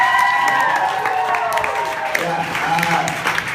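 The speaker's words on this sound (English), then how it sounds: "we should give a big round of applause" Audience applause and cheering at a graduation formal, a crowd clapping steadily with whoops and shouts layered over it, fairly loud and continuous for a few seconds.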